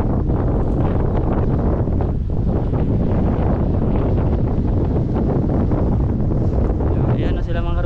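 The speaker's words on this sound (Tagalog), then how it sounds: "Malakas ang hangin ngayon." Strong wind buffeting the microphone outdoors on the water, a constant loud low roar with gusty swells, while someone talks over it.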